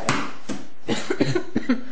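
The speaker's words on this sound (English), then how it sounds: "I'm still getting over this cough" Person coughing several times in a short burst of sharp, close coughs, heard alone in a quiet room during a sewing session.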